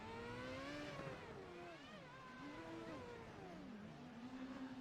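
In a racing video game, a race car's engine revs and climbs through gears as it speeds up, then the pitch falls away under braking; steady and mid-level, with no voices.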